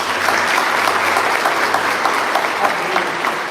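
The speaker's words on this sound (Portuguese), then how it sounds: "Você pode aplaudir a Jesus?" A church congregation applauds loudly and steadily, a dense wash of clapping that holds at the same level throughout.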